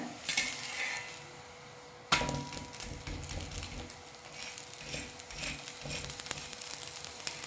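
Food pan-frying in a little oil on a griddle after being flipped, a breakfast dish with coconut and coriander, giving a steady crackling sizzle with scraping spatula strokes and a sharper burst midway, close and alone.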